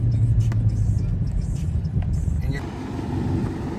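A car with a 5.7 engine being driven in manual mode with paddle shifters, a steady low engine drone and road rumble throughout, easing slightly in pitch near the end, with talk over it.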